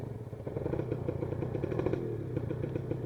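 A Kawasaki Ninja 150 SS two-stroke motorcycle rides on a village road test drive, its engine puttering with a steady, rattly, buzzing drone and slight rises in revs, close and continuous.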